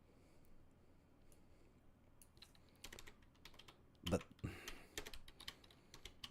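Quiet keyboard typing on a computer while a LaserActive game, Rocket Coaster, runs in an emulator: a scatter of soft, irregular key clicks that pick up into a short flurry near the end, with faint background sound.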